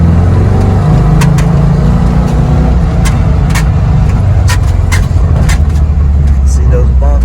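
A car fitted with a Pertronix ignition coil accelerates along a bumpy road, its engine droning low and steady from inside the cabin while bumps knock and rattle through, and a voice talks over it.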